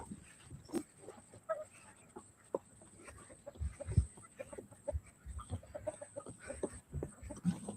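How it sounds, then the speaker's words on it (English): Homestead chickens cluck in scattered, irregular bursts outdoors, moderately close, with occasional faint background noise and no talk. "Let's get the chickens."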